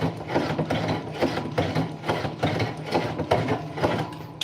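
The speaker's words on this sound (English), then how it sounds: "That's what the oak sounds like cutting." Hand tool shaving oak into fine curls for a scrap-wood mallet, a fast repeated rasping and ticking stroke, close and steady, with no talk.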